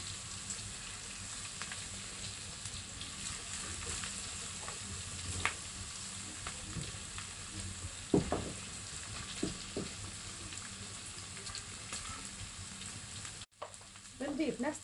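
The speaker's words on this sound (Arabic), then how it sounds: "بنقلي البصل على جهة او الفلفل على جهة" Onion and pepper fry in a pan with a steady, soft sizzle and crackle, a few louder pops and stirring clatters along the way, close and fairly quiet, with no talking.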